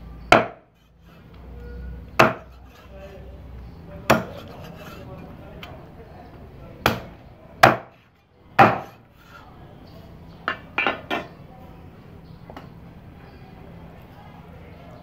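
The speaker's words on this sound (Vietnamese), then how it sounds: "Vịt thì các bạn sẽ chặt thành những cái miếng nhỏ cho mình nhé." A cleaver chops a duck into small pieces on a wooden board, sharp, loud separate whacks spaced a second or two apart, then a quick cluster of lighter chops, close up with a quiet room behind.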